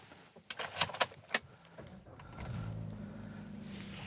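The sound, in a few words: car engine started and left running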